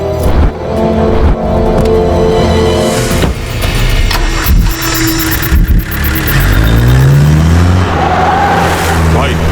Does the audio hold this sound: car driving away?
yes